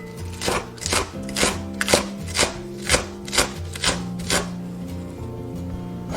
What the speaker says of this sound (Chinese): 切点葱花备用。